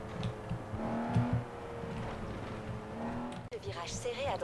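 A Ferrari revs and roars while driving off-road through woods in Forza Horizon 4, a continuous engine note with shifting pitch and a short tire squeal, ending in a quick run of sharp, rising revs.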